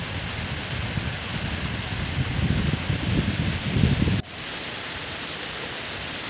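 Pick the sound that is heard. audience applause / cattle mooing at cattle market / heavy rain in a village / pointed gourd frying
heavy rain in a village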